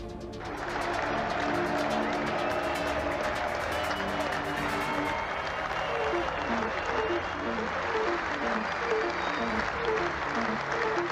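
A tennis crowd applauding and cheering as a player leaves the court, with sustained, loud clapping from a large stadium audience and music playing underneath.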